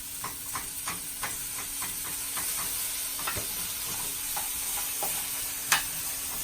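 Carrots sear in a hot pan, glazing and starting to char, giving a steady fine sizzle and hiss with scattered crackles and pops and one sharper spit near the end, close and moderately quiet with no talk.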